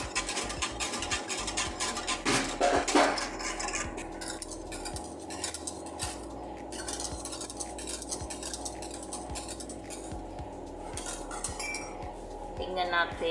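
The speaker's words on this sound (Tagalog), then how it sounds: "Continue lang ang ating pag-whisk" A whisk clinks rapidly and steadily against a metal pot as thickening milk pudding mixture for Arabic mahalabiya is stirred, a busy, close metallic rattle.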